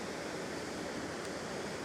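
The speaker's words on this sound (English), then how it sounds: "that would be what's known as the spillway, where they chuck the spare water they didn't need away" Water pours steadily over a mill spillway in the village of Cotterstock, a continuous soft rushing at moderate distance with no other sounds.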